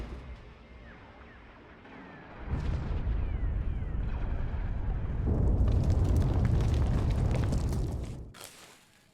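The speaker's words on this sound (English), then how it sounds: "They're powering up weapons. Get out of there!" Spaceship weapons fire and explosions in the Star Wars: The Old Republic game: a heavy rumbling barrage of blasts and booms swells loud and sustained for several seconds, then cuts off abruptly.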